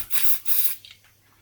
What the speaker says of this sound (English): A good test for Fortune spray, wasn't it?